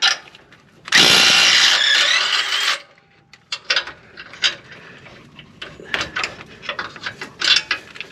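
A power drill whirs loudly for about two seconds while undoing a part during a lift kit install, followed by quieter clanks, clicks and handling noises of parts and tools.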